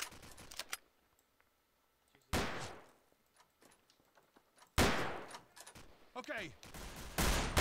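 Bursts of automatic gunfire in Garry's Mod, two loud rattling volleys with ringing tails and a cluster of further shots near the end, between quieter stretches where a voice briefly speaks.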